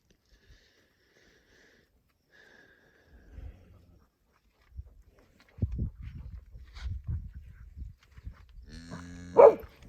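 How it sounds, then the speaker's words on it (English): Cattle gathered near a campsite at Goblin Valley, heard close as quiet sniffing and shuffling hoof steps build up, ending in a loud, near moo. "There's a lot of cows here, Bo."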